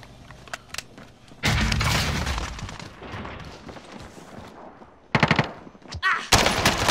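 Bursts of automatic gunfire and explosive shots from a Call of Duty: Modern Warfare multiplayer match, loud and close, coming in a sustained volley then short sharp bursts, with game voice callouts mixed in.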